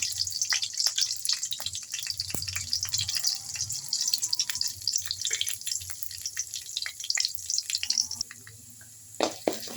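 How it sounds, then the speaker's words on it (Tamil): White urad dal frying in hot oil in a Tamil home kitchen while cooking murungai keerai, a steady close crackle and sizzle with rapid pops and spits throughout, no talking. "எண்ணெய் காஞ்சிடுச்சு வெள்ளை உளுந்தை போட்டுக்கிறோம்"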